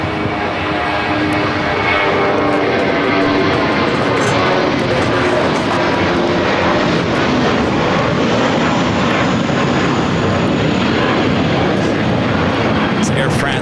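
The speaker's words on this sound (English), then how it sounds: "It's Air France in the SkyTeam livery, the 777-300ER heading back to Paris, taking off there on the north side, 24 left." An Air France Boeing 777-300ER in SkyTeam livery taking off from runway 24 Left at LAX produces a loud, sustained jet roar that stays constant throughout, with voices talking over it.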